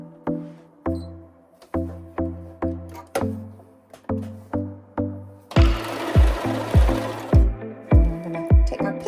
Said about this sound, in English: then I'm going to start sewing